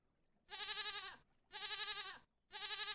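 A goat bleats three times in steady, evenly spaced calls inside the puzzle video game Rusty Lake Paradise, each cry clear and nasal with short gaps of quiet between them.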